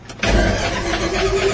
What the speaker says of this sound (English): that's the starting the engine cold